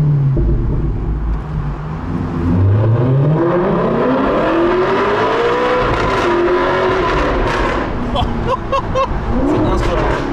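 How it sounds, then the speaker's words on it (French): An Alfa Romeo 8C Spider engine roars in second gear through a tunnel at around 60, pitch sweeping up and down as it revs, loud and echoing, with excited speech over it. "Non seulement c'est la plus belle voiture du monde, c'est la plus belle sonorité"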